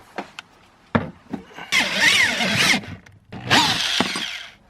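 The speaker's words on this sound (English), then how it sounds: "now I'm gonna drill it in." A power drill drills a hole in a Nissan S13, whirring in two sustained bursts, the motor pitch wavering as it bites, preceded by a few sharp clicks and taps.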